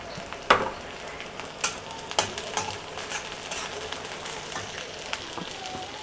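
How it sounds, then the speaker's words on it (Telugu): Cluster beans drop into onions frying in oil, giving a burst of sharp crackling and sizzling followed by spoon clatter and a steady hiss of frying, no talking. "ఉల్లిపాయలు ఇప్పుడు చిక్కు మొట్టకాయలు వేసుకుందాము"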